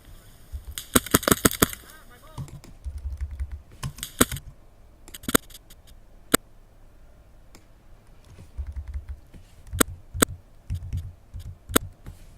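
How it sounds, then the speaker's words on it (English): Computer keyboard keys clicking close by, in quick typing bursts and single sharp taps spread across a quiet room. "I'm going to press M on the keyboard to make a marker"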